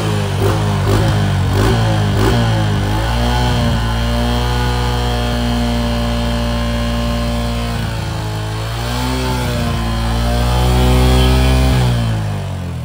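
A Suzuki FX motorcycle engine idles steadily with a deep, even low rumble, then revs up and back down in a couple of swells, close and loud, with no talk.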